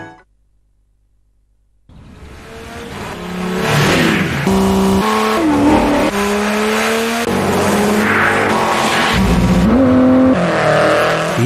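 A Peugeot racing car with an HDi FAP diesel engine roars past close and loud after a moment of near silence, its revs climbing and dropping through repeated gear changes with brief tyre squeal.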